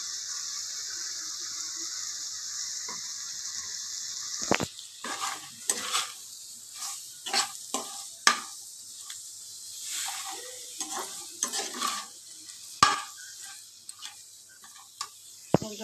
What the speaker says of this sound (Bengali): এবারে আমি মুগ ডালটা দিয়ে একটু হালকা করে ভেজে নেবো।